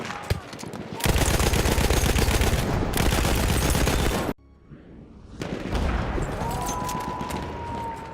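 Gunfire in Battlefield 1 multiplayer bursts loud and continuous, a long dense volley, a brief lull, then another sustained stretch of shooting with a rising whine, all close and without talk.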